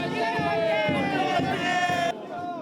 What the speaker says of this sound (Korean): 시험을 앞두고 학교를 떠나는 선배들을 후배들은 박수와 팡파르로 응원했습니다.